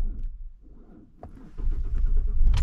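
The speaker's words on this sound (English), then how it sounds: "Now let's see if the car will start." A car engine turns over after battery trouble, with a brief cranking burst before catching and settling into a steady running rumble that grows louder toward the end, close by.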